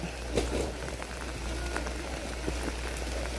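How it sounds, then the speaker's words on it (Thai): Steady rain patters on a surface nearby, with scattered louder drops over a constant low hum and no voices. "ฝนลงแหงแท้ๆนี่"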